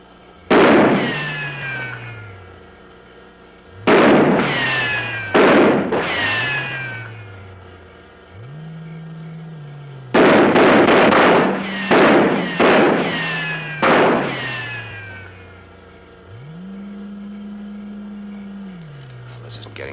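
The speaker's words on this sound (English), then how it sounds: "Go ahead, Corporal. Fire a few rounds." Soldiers fire a few rounds from their guns in a 1957 sci-fi film scene, several sharp loud cracks in separate bursts, some single and some in quick clusters, with a low mechanical hum running between them.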